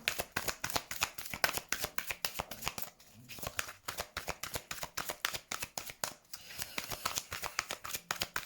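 Tarot cards being shuffled by hand in rapid, rhythmic bursts of crisp riffling and flicking, close and steady, with one short pause near the middle.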